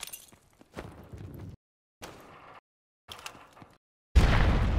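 A grenade explodes in a Call of Duty Search and Destroy match, one loud close burst with a sharp broadband onset after several short bursts of game sound separated by silences.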